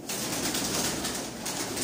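A Rampuri choha pigeon pair sits in a breeder setup, the male beside the female, giving soft, steady cooing against a constant hum of background noise.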